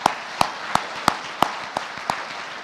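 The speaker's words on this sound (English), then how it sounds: "But one more round of applause for our AP Honor" During a school Veterans Day assembly, applause for honor society students comes through as a slow series of about eight crisp, separate claps, regular in rhythm and moderately loud against a quiet hall.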